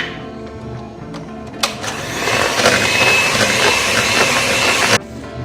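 An electric hand mixer whirs through cake batter for a layered spiku cake as sweetened condensed milk is mixed in, starting with a click, running as a steady loud buzz for a few seconds, then cutting off abruptly.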